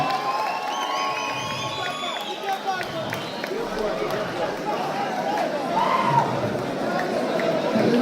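A crowd applauds and cheers for Johnny Jiu-Jitsu, the new champion, after a fight. A dense, steady wash of clapping and crowd noise runs the whole time, with voices mixed in and a slight swell near the end.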